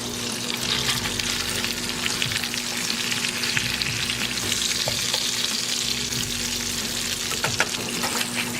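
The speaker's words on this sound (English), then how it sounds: "Got the ground beef. It's coming along very nicely." Ground beef fries in a pan with a constant close sizzle and occasional stirring scrapes, with no one talking.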